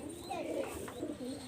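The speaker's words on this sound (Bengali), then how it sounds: "কবুতর জোড়াটা দেখেন" Pigeons cooing softly at a bird market with a pair of pigeons close by, a few low warbling coos over faint background hum.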